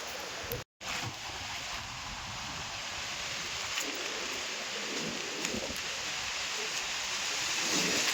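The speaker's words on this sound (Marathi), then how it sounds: "पाऊस तर अजिबात नाही पण वारा खूप आहे" Strong wind buffets a foggy hilltop fort on a monsoon trek, a loud, continuous broadband roar with one brief dropout near the start.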